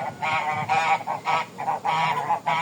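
Domestic geese in a farm barn honk repeatedly nearby, a series of nasal, rhythmic calls rising and falling in short bursts.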